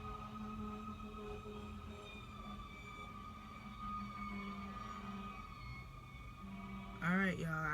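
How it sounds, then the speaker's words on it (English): A fire truck siren wails through a residential area, its steady tones running under the whole stretch and swelling sharply near the end as it passes close by, with a faint voice in the background. "that's the fire truck."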